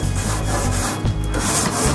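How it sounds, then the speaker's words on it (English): A metal grill grate scraped clean with a tool, harsh loud rasping strokes close up, rhythmic back-and-forth scraping with no voices. "Grill scraped off here."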